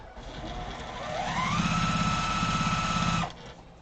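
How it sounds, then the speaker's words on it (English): A sewing machine stitching quilt block pieces together runs in a steady, fast mechanical whir that speeds up, holds for about two seconds, then stops abruptly, close and clear with no talking. "let's just sew all these pieces together"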